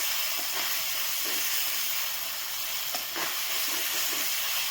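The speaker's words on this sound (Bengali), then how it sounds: "আমার মশলাটা ভাজানো হয়ে গেছে" Spices crackling in hot oil in an electric wok after salt and bay leaf powder go in, a steady close hiss with faint stirring scrapes and no talk.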